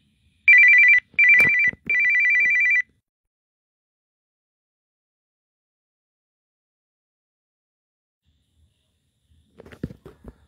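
A phone ringtone plays three times in quick succession near the start, loud and close, followed by long silence and faint rustling at the end.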